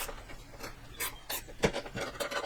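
A tool rasps and ratchets in short repeated strokes while a blind nut is tightened on a DeeZee tailgate assist for a Chevy Colorado or GMC Canyon, close up and moderately quiet.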